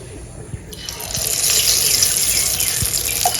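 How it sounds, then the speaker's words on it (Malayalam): Batter poured into hot oil in an unniyappam pan gives a sudden, close sizzle that swells after a quiet start and holds steady and loud. "എണ്ണ ചൂടായിട്ടുണ്ട്. നമുക്ക് ബാറ്റർ ഒഴിച്ചു കൊടുക്കാം."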